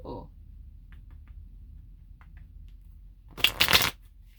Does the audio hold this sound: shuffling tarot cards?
yes